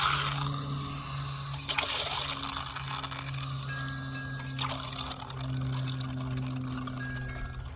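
Water runs steadily from a garden irrigation line set on a manual timer in a vegetable bed, producing a soft continuous trickle and splash with a couple of brief knocks, close by and alone.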